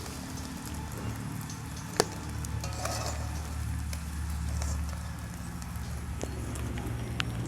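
Paneer cubes fry in a kadai over a clay stove, giving a low, steady sizzle with light stirring and a single sharp metallic clink partway through.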